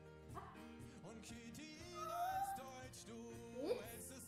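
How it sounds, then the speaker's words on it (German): A dog gives a string of short yips and whiny barks indoors, fairly close, mixed with a voice. "Ja, das ist ein talentierter Hund."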